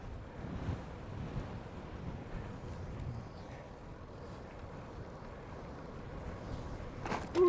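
Wind buffets an outdoor microphone during a bicycle tour in South Korea, a steady broadband roar that swells and eases in gusts and ends with a sharp louder burst, with no talking.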